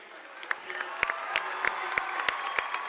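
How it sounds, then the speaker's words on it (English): Both crowds in a high school basketball gym at the Munising vs Superior Central district final applaud Superior Central, giving a steady wash of clapping with sharper individual claps popping through, heard from a moderate distance. "Superior Central getting a nice round of applause from both crowds"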